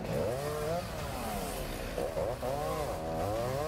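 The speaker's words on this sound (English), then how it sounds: "They are using a handheld chainsaw to trim the tree" A handheld chainsaw trims a fallen tree that crushed a car, its engine revving and dipping in steady surges with a wavering whine, close and loud throughout.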